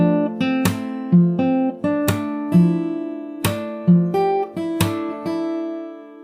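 A guitar plays a passage, a quick run of plucked notes with sharp slapped chord accents that ring over one another, close and alone with no voices.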